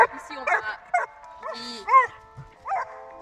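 Several dogs bark and yip in short separate bursts at the end of a group walk, close by and uneven in rhythm, with quiet gaps between the barks.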